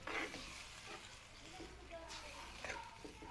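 Beef and bitter melon stir fry, ampalaya con carne in sauce, being stirred in a pan, giving a soft, low-level sizzle and scraping throughout, faint and fairly steady.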